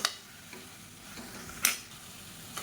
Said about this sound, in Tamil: இப்போ பாருங்கள் முள்ளங்கி நல்லா வதங்கிடுச்சு